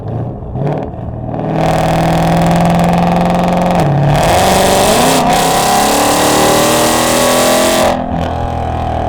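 A 2020 Ford Shelby GT500 with a Lethal Track Exhaust revs loudly through aggressive downshifts, its engine note rising and falling in sharp surges with brief dips between blips, up close and without talk.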